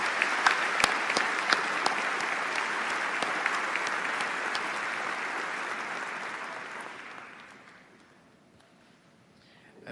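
A large audience in the stands at a university commencement applauds faculty, a dense, even wash of clapping that holds steady, then fades out toward the end, leaving near silence.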